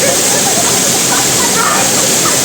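Somtirth waterfall, a scenic spot in Nivendi, Konkan, roars loud and close as a dense, unbroken rush of falling water, with faint visitor voices underneath.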